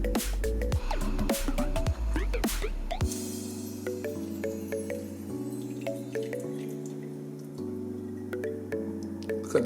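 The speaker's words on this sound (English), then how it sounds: "we're gonna pour some in this container" Thick lentil soup with spinach gurgles and splashes as it is poured into a container, a close, continuous glugging pour that settles into a softer, steady trickle.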